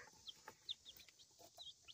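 Baby chicks give a few faint, brief, high peeps, scattered irregularly over a quiet, hushed background with no talk.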